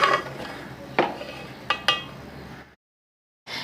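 Serving spoon scraping and clinking against a pot and dish while egg dum biryani is plated, several distinct metallic knocks amid softer scraping, then a short silence and one more clatter, no voices.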